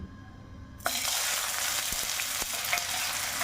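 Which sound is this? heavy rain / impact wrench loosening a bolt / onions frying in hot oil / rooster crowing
onions frying in hot oil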